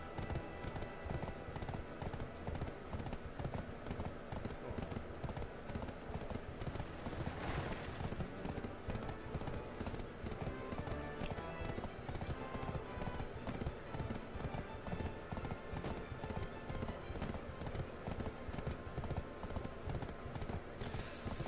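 Steady, rhythmic hoof clopping of a horse on the move in the video game Black Desert Online, continuing evenly for the whole stretch with a low background hum.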